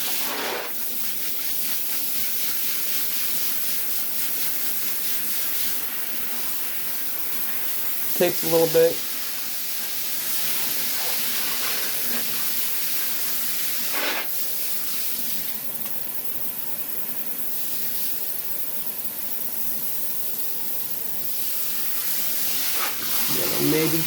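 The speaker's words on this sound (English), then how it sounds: "Take the sprayer and turn that on. And yeah, spray the bathtub clean." A handheld sprayer hisses water steadily against a bathtub, a continuous close rush with brief clatters of splashing and a few quiet words spoken partway through.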